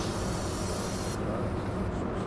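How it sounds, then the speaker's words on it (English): Air-brake doors of a large city bus release a continuous, loud pneumatic hiss that cuts off partway through, leaving a softer broadband rush of bus noise. "Let's just open the doors, I guess."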